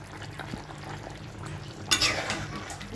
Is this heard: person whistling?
no